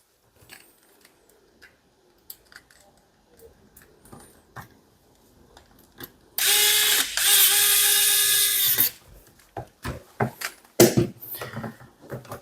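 A screw being driven into the front of a hot water tank during a water heater tank replacement gives a loud steady whir of about two and a half seconds, then scattered clicks and knocks of parts being handled.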